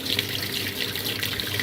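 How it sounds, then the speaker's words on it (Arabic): Water rushing steadily into a Toshiba top-load automatic washing machine with a stuck inlet valve, a close, continuous hiss and splash with no voices. "تبدأ تسحب مية"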